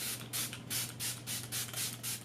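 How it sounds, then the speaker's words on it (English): Several short bursts of Smashbox primer water mist sprayed onto a face hiss in quick succession at close range, faint, with a low steady hum underneath. "taking my Smashbox primer water and spraying that all over my face"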